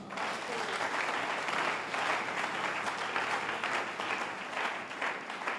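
Church congregation applauding and cheering, a sustained dense burst of clapping mixed with excited voices, steady and moderately loud for several seconds.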